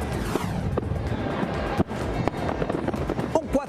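Fireworks for a Fourth of July week display in New York burst in a dense run of sharp cracks and pops, some near and loud, others more distant, under a constant rumbling wash.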